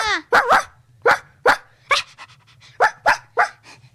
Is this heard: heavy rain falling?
no